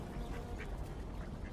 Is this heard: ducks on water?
yes